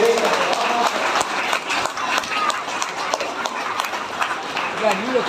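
An audience claps steadily through a dense wash of applause at a Tamil lifetime achievement award ceremony honouring a Tamil teacher, while someone speaks over the clapping.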